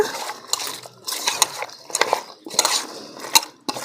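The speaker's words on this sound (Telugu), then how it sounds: "ఇప్పుడు ఇదంతా చికెన్ని మనం బాగా కలుపుకోవాలి" Marinated chicken mixed in a pot for a basmati chicken biryani, with repeated metallic clinks and scrapes of a utensil against the pot in an uneven rhythm, close and moderately loud.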